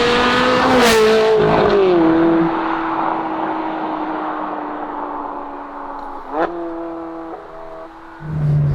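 A Ferrari 360 Challenge Stradale engine revs hard through several gear changes, its pitch climbing and dropping as the car accelerates and shifts, loud and close throughout with no talk.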